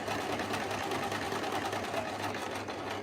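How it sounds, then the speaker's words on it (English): A sewing machine fitted with a straight-stitch measuring presser foot runs steadily while stitching around a fabric triangle, producing a continuous, even mechanical whirr and rapid needle rhythm throughout, close and fairly loud. "let's get started with sewing around this first triangle"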